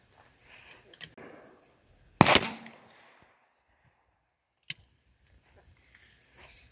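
A single loud 20 gauge shotgun blast firing a homemade reload of 15-pellet #4 buckshot at an outdoor range, sharp and close with a short decaying tail, followed later by a faint click.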